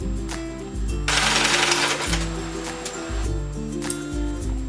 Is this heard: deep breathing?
no